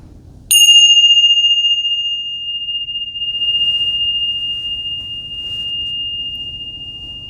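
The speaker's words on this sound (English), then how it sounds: "Let me ring the bells." A single bright bell strike rung during a tarot reading, sharp onset then a long pure ringing tone that slowly decays over several seconds, heard alone and close.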